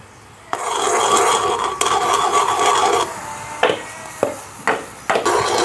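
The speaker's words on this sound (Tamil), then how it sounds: "அதை இதுக்குள்ளே ஊற்றி ஊற்றி அப்படியே கிண்டி கொண்டே இருக்க வேணும்" A spoon rasps and scrapes steadily against a pan as thick jamun fruit jam is stirred with its juice. The stirring is close and continuous, broken by a few sharp knocks near the end, with no talk.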